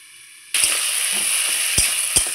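Fish head and ash gourd curry sizzles steadily in a pan after a quiet start, with a few sharp clinks of a spoon scraping the pan as the mixture gets stirred.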